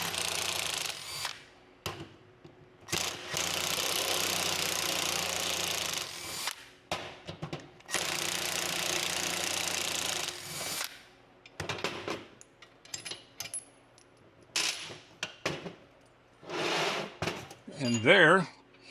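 A power tool backs out the three star-bit fasteners from a 1997-2008 Corvette rear wheel hub, sounding in several loud sustained bursts separated by pauses, followed by metallic clinks and handling noises at close range.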